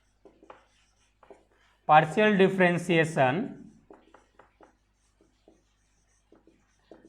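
A marker or chalk writes on a board during a math lesson on partial differentiation. One loud, squeaky burst of strokes is followed by scattered faint taps and scratches, with no talking.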